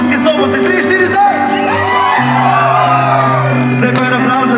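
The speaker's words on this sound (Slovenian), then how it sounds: "dajte sami sem zaploskati, pa zavriskati, 3, 4, zdaj!" An audience at a gathering at a day care centre whoops and shouts on cue, a loud, dense crowd cheer with voices mixing throughout, some sustained calls and yells over the noise.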